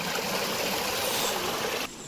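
Water rushes and roars in a steady, close, continuous wash at the Mekedatu waterfall, with no voices over it.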